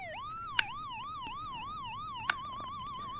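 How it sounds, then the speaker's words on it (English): A homemade dub siren wails in a rapid, steady up-and-down electronic tone, loud and alone, with two brief clicks along the way. "One produces a single beeping tone, and another alternates between 2 tones."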